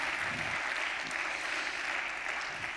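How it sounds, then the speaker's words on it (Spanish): Church congregation applauding during a sermon, a broad, even roar of many hands clapping that holds steady throughout, distant and soft in level. "¿Le puede dar un aplauso al que nos da la recompensa?"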